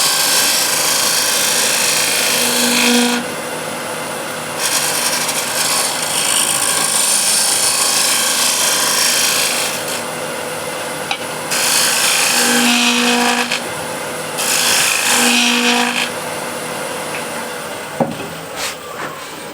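A tool scrapes across an 11-inch wooden plate in long, loud rasping passes, broken by short pauses, with a few faint tonal hums between strokes and a sharp knock near the end.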